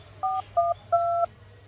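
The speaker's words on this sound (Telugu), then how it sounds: "ఫోన్ చేసి చూస్తా" Three telephone dialing tones, two short beeps and then a longer one, are heard clearly and alone over a faint background hum.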